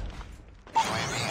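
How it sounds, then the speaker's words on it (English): A weapon reloading in the shooter game Call of Duty Mobile during a Hardpoint match, a brief mechanical click and clatter of the magazine action after a quieter moment, close and alone. "Reloading."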